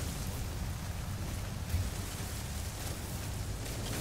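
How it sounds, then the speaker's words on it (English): A heavy rainstorm in the space exploration game No Man's Sky, steady dense hiss of rain with a low rumbling undertone and a faint thump midway, constant and fairly quiet, no talking. "Extreme storm, I gotta pay attention to it."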